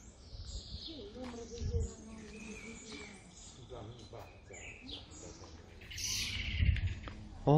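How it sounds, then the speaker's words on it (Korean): Birds chirp and sing outdoors at a scenic sightseeing spot in southern Italy on the Amalfi Coast, steady bright calls with insects under people talking nearby. "새소리 완전 좋네요."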